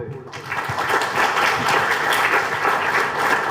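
A crowd at a church gathering in Edakkara claps together in sustained applause, loud and steady for the full few seconds after a brief quiet start.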